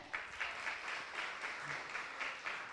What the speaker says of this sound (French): c'est les membres du jury que je vous demande d'applaudir, s'il vous plaît